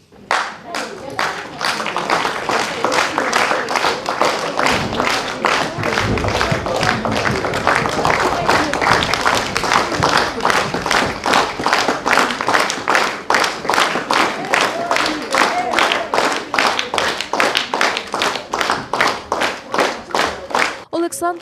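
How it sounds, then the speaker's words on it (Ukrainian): A council hall audience in Boryspil gives a standing ovation, with sustained, dense applause from a crowd of hands clapping steadily for about twenty seconds, loud and close, with no speech over it. "Герою, батьку шістьох дітей, зал аплодував стоячи."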